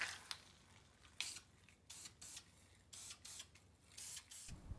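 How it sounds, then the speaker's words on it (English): Short hissing bursts of aerosol rubberized undercoating sprayed onto welds on a Fox Body Mustang chassis, repeated in an uneven rhythm with brief pauses between, close and fairly quiet. "I'm going to spray all the welds to keep them from rusting"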